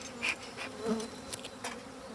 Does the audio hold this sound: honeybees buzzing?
yes